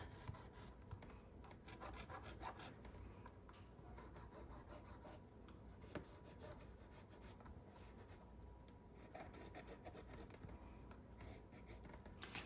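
A pencil rasps steadily as it marks fabric around a quilting template, a close, soft scratching that runs continuously without speech.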